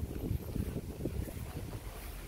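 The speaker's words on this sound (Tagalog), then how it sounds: "malakas ang hangin." Strong wind gusts buffet the microphone at a seaside fish port in Cadiz City, a steady low roar with rushing surges and a faint background of water, with no talking.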